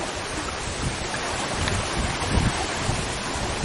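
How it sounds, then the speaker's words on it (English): Waves wash against a lake shoreline in strong wind, a dense, steady roar of surf and wind buffeting the microphone, loud and continuous with no talking. "Out on the ocean with this wave action going on out here."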